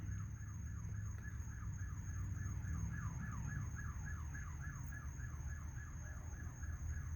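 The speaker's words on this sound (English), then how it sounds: "They gave that siren." A siren wails in a repeating rising-and-falling yelp, steady and moderately distant, under a constant low rumble and a thin high whine, with no talking.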